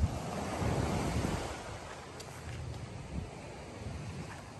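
Beach waves wash onto the shore at the abandoned Teluk Dalam Resort on Pulau Pangkor, a continuous broadband roar of surf with wind buffeting the microphone, strongest in the first seconds and no voices.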